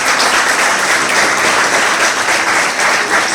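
A dense, loud burst of applause fills a hall as an audience at a career orientation session claps for a youth coach, steady throughout with no pauses.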